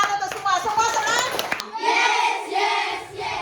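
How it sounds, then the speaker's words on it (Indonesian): Classroom of schoolchildren clapping together after a computer game-making lesson, a mix of hand claps and children's voices and cheers, fairly loud and close, with a short lull before the clapping and chatter swell again. "tepuk tangan untuk semua"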